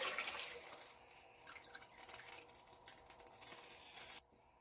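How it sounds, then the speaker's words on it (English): Coconut juice poured into a pot holding a little water, a steady broadband liquid splash and trickle that fills the clip and cuts off sharply near the end. "then you're going to pour the coconut juice in it like this"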